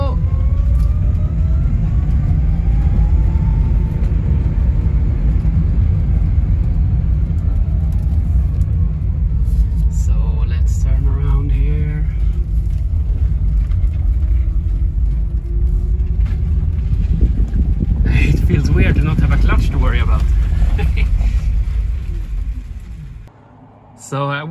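Electric vehicle motor at full throttle, a loud steady hum with a deep rumble that holds for about twenty seconds, joined by clatter and rising whine toward the end before cutting off.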